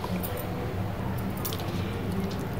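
Whole rice grains crushed by hand for a rice kheer make a close, steady squishing and gritty crunching that runs unbroken through the whole stretch, with no voices.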